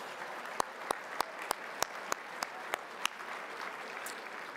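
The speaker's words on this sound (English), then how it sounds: "let's give her a round of applause for that" At a dinner event, soft scattered clapping rises over a quiet room murmur, with a run of evenly spaced sharp claps standing out before fading away.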